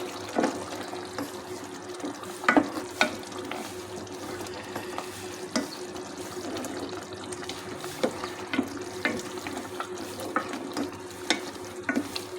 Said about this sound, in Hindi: इसको थोड़ा भून लेंगे हम मसालों को।